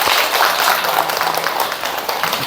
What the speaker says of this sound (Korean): 애썼는데 박수 한번 주세요